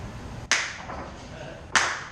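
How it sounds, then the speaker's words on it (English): Two loud, sharp hand claps spaced over a second apart, each a crisp broadband crack with a short decaying tail, set against a low background murmur. "now I can clap real fucking loud"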